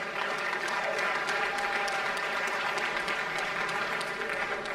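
Warm, continuous audience applause at an oral healthcare conference in Nigeria as a speaker comes forward, a dense, even wash of many hands clapping with faint crowd sounds mixed in.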